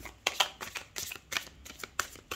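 Tarot deck shuffled up close for a weekly Sagittarius reading: sharp papery riffles and slaps repeating in quick bursts about every half second, with no voice over them.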